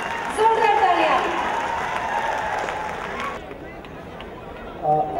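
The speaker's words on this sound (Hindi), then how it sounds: "जोरदार तालियां।" Loud applause from an audience at a public gathering in Hyderabad, a dense wash of clapping for about three seconds that then thins out, with a voice briefly audible near the end.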